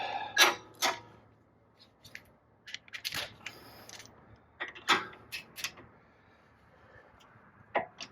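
Torque wrench tightening a front strut bolt on a 2017 Kia Sedona, a few sharp metallic ratchet clicks and clunks spaced irregularly, close and fairly loud against a quiet background.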